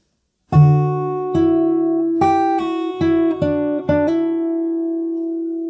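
A fingerstyle acoustic guitar phrase from a song: about seven distinct plucked notes and hammer-ons in a slow, gentle rhythm, the last one ringing out long; close, clean and solo with no voices.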